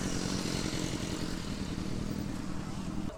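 Motorcycles on a charity Santa ride rumble and idle around the listener, a dense steady drone of several engines nearby, fairly quiet overall with faint talk mixed in.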